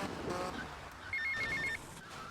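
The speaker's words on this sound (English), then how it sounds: "So we'll take this phone call here." A telephone ringing in Grand Theft Auto: Vice City, a short burst of electronic trills repeating rapidly, fairly quiet over a low background hum.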